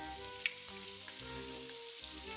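Sausage piroshki sizzle in hot oil on lowered heat while frying on their second side, a soft continuous crackle with occasional sharp pops under a low steady hum.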